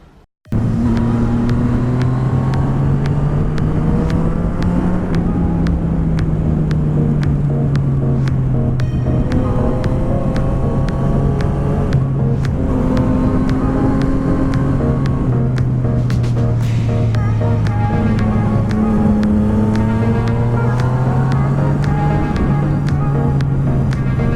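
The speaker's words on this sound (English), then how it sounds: "I'm going to ride down on my bike and swap over when I get there." A motorcycle rides along a road, its engine a loud, continuous drone that rises and falls in pitch as the revs change, heard alone without voices.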